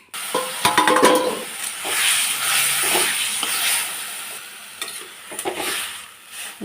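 Mustard seeds and dried chillies sizzle in hot oil for a tomato and coconut chutney, a loud, steady frying hiss broken by scraping stirs close by.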